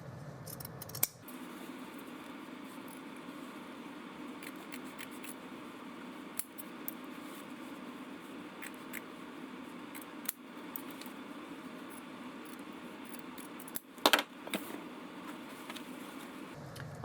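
Scissors trim excess denim while a hole in the back pocket of a pair of jeans is repaired, giving a few crisp, separate snips spaced several seconds apart over a quiet room hum.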